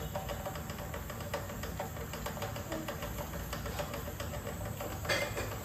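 A pressure cooker with rice inside gives off a continuous, fairly quiet steam hiss throughout, with faint rattling, and no one speaks.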